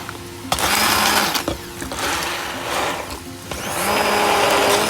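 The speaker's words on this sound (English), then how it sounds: "I'm going to use my grinder to grind it well." A kitchen grinder whirs while grinding butter chicken masala, running as a loud, steady motor drone broken by a few short pauses and surges over about five seconds.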